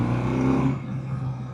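A 2025 BMW R12 nineT motorcycle engine revving during a ride, a loud close rising growl that eases off partway through, with no talk.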